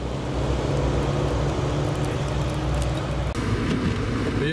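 Cars driving along a snow-covered road during a heavy snowfall, a steady low engine and tyre rumble from passing traffic, moderately loud with no speech.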